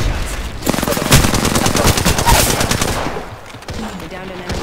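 Rapid bursts of automatic gunfire from an Apex Legends firefight ring out loud and dense for about three seconds, then drop to sparser shots and lighter game sounds.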